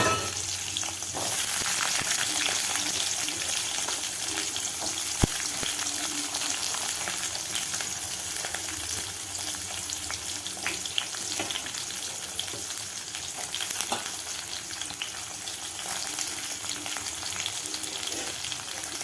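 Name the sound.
frying mustard seeds and urad dal in oil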